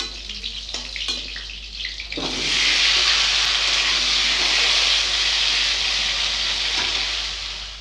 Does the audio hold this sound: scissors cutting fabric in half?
no